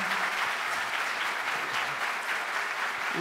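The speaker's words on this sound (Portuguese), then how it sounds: "peço uma salva de palmas para o ministro" Steady, dense clapping from a conference audience applauding the minister at a Brazilian legal innovation event, continuous and even with no voices over it.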